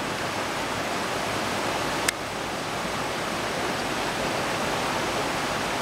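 A river rushes near Bowers Bridge in West Windsor, where a bridge broke free, giving a dense, steady roar of fast water that stays loud throughout, with one brief tick partway through.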